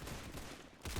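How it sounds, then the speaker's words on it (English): Machine gun fire in a video game, a short dense fusillade of rapid shots that dips briefly and then surges loud again, heard alone. "That's a damn machine gun!"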